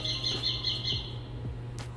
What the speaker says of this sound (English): apparently there's birds in here